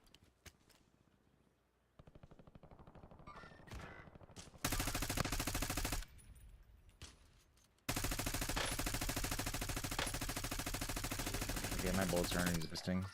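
Loud, sustained bursts of automatic gunfire from a Call of Duty video game, starting after a quieter stretch of sparse shots, with a short lull before a second long, dense volley.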